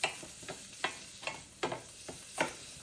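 Minced store-bought yellow onions cook in a pan, giving a soft sizzle marked by repeated sharp scrapes and stirring taps at an uneven rhythm, close by and fairly quiet, without any talking.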